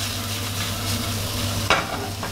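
Shrimp stir-fried over high heat in a pan give a steady close sizzle with a low hum, broken by one sharp spatula scrape partway through.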